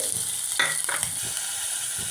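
Oil sizzling and crackling as chopped onions fry, with a steady hiss and a couple of louder spitting bursts, fairly close.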